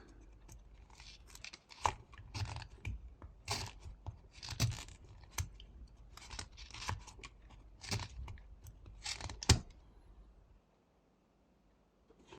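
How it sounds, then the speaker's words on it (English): A knife blade pressed into and cutting a small wooden block while whittling a dove, giving quiet, close crunchy slices and scrapes in irregular bursts, followed by near silence at the end. "You can just press the blade into the wood and then cut from here."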